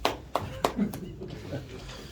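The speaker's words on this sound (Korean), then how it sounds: "작게 했으니까 박수" A few scattered claps from a small church gathering at a founding service, four or so distinct hand claps spaced out in a short burst, fairly quiet, with faint voices murmuring around them.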